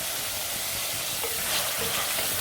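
Small chicken pieces fry in a clay pot with a loud, dense, even hiss of hot oil that holds steady close up, with faint shuffling of stirring underneath and no speech.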